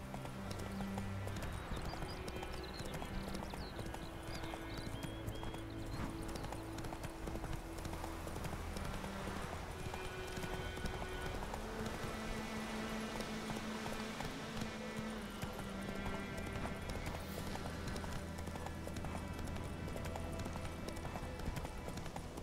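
Steady clip-clop of the horse Roach's hooves galloping through The Witcher 3, a continuous rhythmic pounding laid over a dense game soundtrack, with an occasional whinny and no talk.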